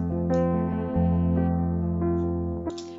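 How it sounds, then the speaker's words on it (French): Sustained guitar and piano tones ring together, with notes changing every half second or so, steady and fairly loud, ending with a brief pluck. "je vais mettre en solo la guitare et le piano et on va écouter ça"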